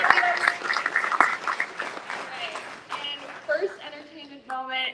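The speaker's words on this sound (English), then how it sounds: "So just shout out and a quick applause for Emily." Audience applause at a Comic Con Star Wars panel, brisk clapping under talk and cheers that gradually thins out over a few seconds.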